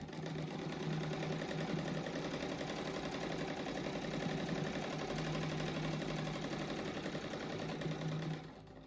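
A sewing machine stitching down the middle of a patchwork star rug, a steady fast mechanical whir and rattle running continuously before easing off at the end.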